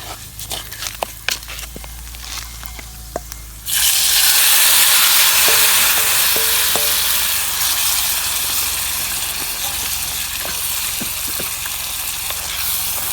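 Alakola yam is tossed into hot oil in a pan for tempering on a village cooking fire, setting off a loud, steady sizzle that floods in suddenly after a few quiet clinks and then slowly eases.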